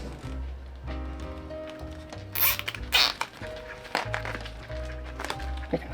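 A zip tie ratchets tight around flower stems in a few quick, rasping zips, close and crisp, set against a low background music bed.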